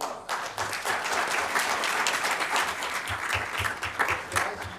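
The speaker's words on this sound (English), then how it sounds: "Big round of applause" An audience at a city council special meeting applauds a scout from Troop 512, with sustained clapping filling the room and a few distinct nearby claps standing out over several seconds.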